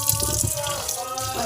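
Small charapona fish are rinsed under a running kitchen tap. Water splashes steadily and close by, with no one speaking.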